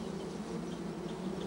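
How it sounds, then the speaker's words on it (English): Bees buzz in a dense, continuous hum near a bear in the wild, a steady swarm drone with no pauses throughout. "The very sound of bees can send people ducking for cover."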